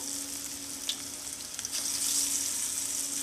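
Vada batter sizzles and bubbles in hot oil for vada curry, a steady close hiss with small pops.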